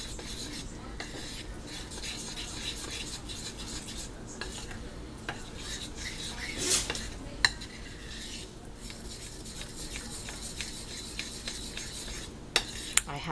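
A sauce being stirred in a bowl gives a soft, continuous scraping and swishing, faint and close, with a few sharp clinks of the utensil against the bowl near the end.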